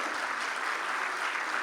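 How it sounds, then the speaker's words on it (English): A brief, steady burst of audience applause from a seated crowd at a literary conversation event, even and moderately loud. "A round of applause for this."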